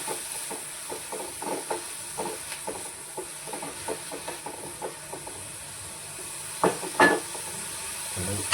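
Onion and tomato frying in a pan, a soft steady sizzle and hiss with frequent light scraping stir taps and a couple of louder clanks near the end, fairly close.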